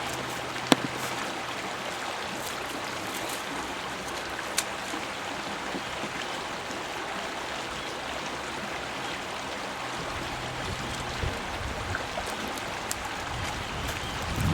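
A sampling bottle is filled in a stream for a Winkler titration, under a constant wash of broadband rushing water with a few faint clicks and no talking.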